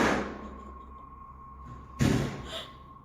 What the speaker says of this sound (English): he turns to find the door from the other room has slammed shut again